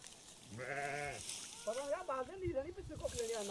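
A sheep in a Himalayan shepherd's flock lets out one drawn-out, wavering bleat close by, followed by someone talking over faint flock background.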